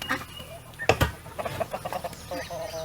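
Chickens in a backyard coop with roosts cluck softly and intermittently nearby, short scattered calls over faint background noise, with a brief louder knock partway through.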